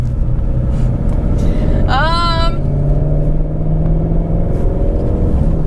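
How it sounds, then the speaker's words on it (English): A loud, deep Shelby GT500 muscle car engine rumbles steadily and close by, with a brief voice cutting in partway through. "the sound of the GT500 is definitely that like American muscle"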